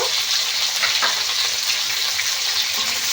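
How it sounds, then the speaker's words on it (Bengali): Chopped tomato, onion and green chillies fry loudly in a pan while being stirred, a dense continuous close sizzle with scraping stir movements throughout. "দিয়ে এইভাবে একটু নেড়ে চেড়ে নেব"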